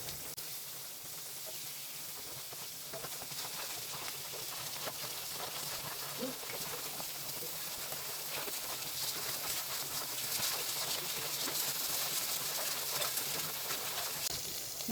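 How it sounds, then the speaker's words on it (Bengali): Chapila fish frying lightly in hot oil in a pan, a steady soft sizzle and crackle that runs evenly throughout with no voices. "মাছটা বেশি ভাজবো না, হালকা করে ভেজে নেব"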